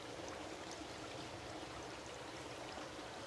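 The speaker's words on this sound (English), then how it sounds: "Our Buddha Bubbler Fountain." A small Buddha Bubbler garden fountain burbles and splashes steadily, a soft continuous trickling wash with no pauses and no voices.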